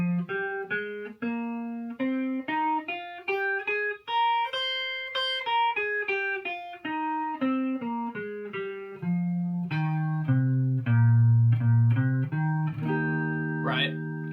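A pentatonic scale with an added fourth played as a clean melodic run of distinct sustained notes, climbing and then descending, with a final held chord and a brief flourish at the end.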